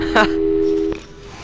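A telephone busy or disconnected-line tone from the video game Portal 2 sounds as a steady, loud electronic hum, briefly overlapped by a short voice at the start, then cuts off near the end.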